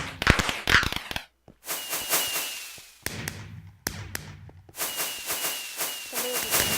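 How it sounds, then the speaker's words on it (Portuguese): Video-game fireworks go off in a string of sharp cracks and pops, some with crackling tails, separated by brief quiet gaps, fairly faint and with no talk over them. "Tem o kit fogos, que são fogos que você pode soltá-los."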